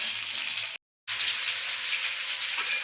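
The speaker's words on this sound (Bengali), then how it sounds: "এগুলো ভালো করে ভাজা হবে।" Mixed vegetables for moong dal frying in a pan, with a steady, close hiss of sizzling oil that cuts out briefly and then carries on.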